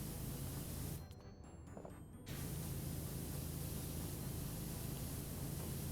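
A pressure washer sprays in the video game PowerWash Simulator: a loud, continuous broadband hiss that drops out briefly after the first second, then returns at full strength and holds steady.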